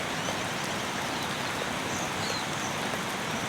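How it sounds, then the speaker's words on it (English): Steady light rain pattering on leaves and rocks at a camp under a tarp, a dense even hiss of drops with scattered close hits, constant and unbroken with no voices. "the rain as it's hitting the leaves, which is a different sound, and then the light rain hitting the rocks"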